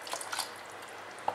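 Water being poured into a simmering mushroom pepper gravy, a brief soft splash and dripping with a single small drip at the end, close and quiet with no talking.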